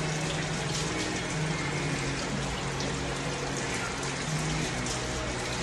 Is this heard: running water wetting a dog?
yes